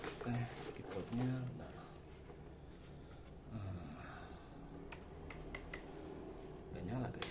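Computer keyboard typing during the setup of a Dell Vostro 3668 PC: scattered light key clicks and taps close by, with someone talking and low background noise.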